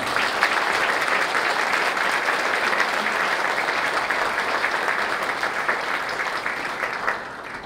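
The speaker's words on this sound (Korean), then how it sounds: "큰 박수 부탁드립니다." An audience at a Korean lecture on the Fourth Industrial Revolution applauds to welcome the speaker to the podium, with dense, steady clapping that runs throughout and fades slightly at the end.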